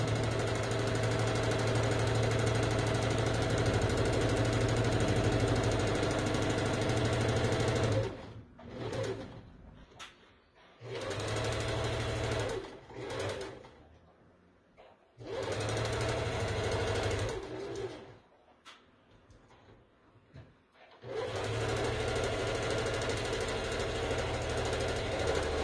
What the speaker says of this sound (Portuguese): Vou passar a costura aqui e eu já mostro aí pra vocês. Tá uma costura reta, normal.